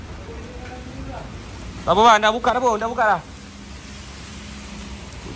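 Rain falls steadily around a carbon fiber fabrication workshop, a soft continuous hiss running beneath a short burst of speech.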